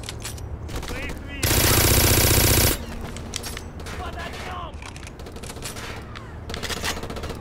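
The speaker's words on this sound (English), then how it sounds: "Good God, so many bullets." Machine gun fire in a first-person shooter game, a loud continuous burst of about a second and a half standing out from busy game sounds, with someone talking over the action.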